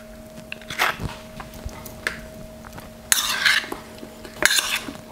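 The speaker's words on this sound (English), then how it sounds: "Give that a mix." Spiced prawns being mixed in a bowl with a spoon, giving a few separate bursts of wet scraping and clinking, close and moderately loud, with no talk.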